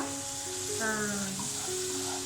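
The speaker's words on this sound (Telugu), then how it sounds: "ఈ టమాటా ప్యూరీ కొంచెం మంచిగా ఫ్రై అయ్యేదాకా ఫ్రై చేసుకుందాం" Tomato and coriander puree frying in a pan for egg masala gravy curry, giving a soft, steady sizzle while someone talks over it throughout.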